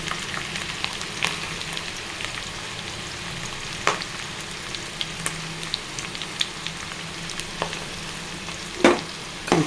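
Onion and green chilli pieces fry in a pan with a continuous close sizzle, broken by scattered sharp clicks and a few louder spatters or stirring knocks. No one speaks.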